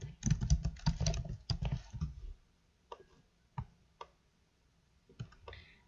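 Keys clatter on a computer keyboard during work in Illustrator CC 2020: a dense burst of quick taps, then a few isolated clicks spread out with quiet gaps between them.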